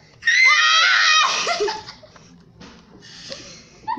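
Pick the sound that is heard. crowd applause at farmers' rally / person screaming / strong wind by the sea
person screaming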